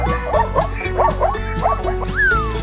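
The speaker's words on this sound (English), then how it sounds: "Zebra" A zebra gives a series of short, barking yelps in quick bursts, fairly loud and close, over a constant low musical background, ending with a descending tone.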